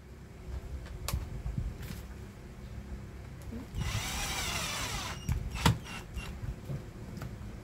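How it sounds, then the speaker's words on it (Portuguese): Small screw driven into a clothes iron during reassembly, a steady mechanical whirring buzz of a driver running for a few seconds, close and moderately loud, with scattered clicks and handling knocks around it. "agora a gente vai colocar um parafuso aqui"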